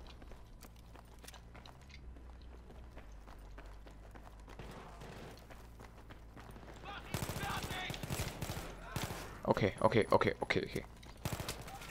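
Weapon fire in Battlefield 3 at Donya Fortress, scattered shots early giving way to loud rapid bursts near the end, with someone speaking briefly.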